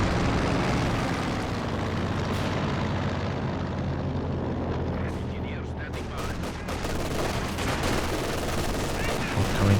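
A Company of Heroes 2 battle: a Katyusha rocket barrage and MG42 machine-gun fire make a dense, steady roar of rapid gunfire and blasts, with sharp bursts clustering midway, under a commentator's continuous talk.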